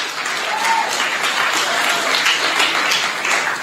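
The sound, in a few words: audience applause for fellows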